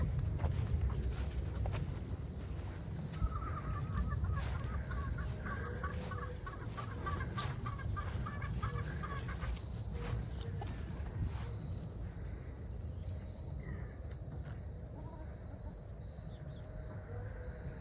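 A flock of chickens loose in a garden bed clucks in soft, repeated bursts, with scratching and rustling over a steady outdoor background.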